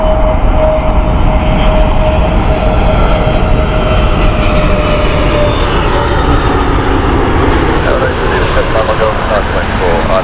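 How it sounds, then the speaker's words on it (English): A Scandinavian Airlines Airbus A320neo jet at Heathrow on a cold, foggy day gives a loud, close, continuous engine roar with a steady whining tone, filling the whole stretch. "Airbus A320neo."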